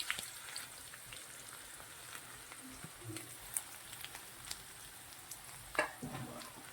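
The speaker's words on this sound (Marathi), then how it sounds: "लो गॅसवर मस्त असा तळून घ्यायचा आहे मस्त असा" Onion frying on low heat after cumin, a faint, soft crackle and sizzle with scattered small pops and occasional light stirring scrapes, all quiet and close.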